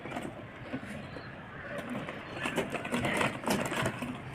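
A sewing machine stitches a netted frill blouse, running in a steady, moderately loud mechanical whirr with rapid rattling pulses that swell slightly toward the end.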